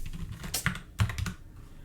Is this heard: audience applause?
no